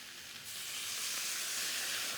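Chicken stock poured around the edge of a very hot wok over stir-fried vegetables, a loud continuous hiss and sizzle that swells sharply after a quiet start and stays steady.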